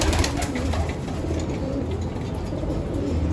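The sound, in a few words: pigeons cooing in a loft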